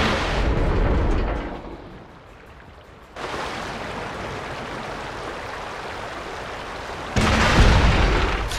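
Tank cannon fire and explosions in World of Tanks clan wars: heavy booming blasts with a rumbling low end. A loud burst opens, a second strikes around the midpoint and a third comes near the end, over sustained battle noise.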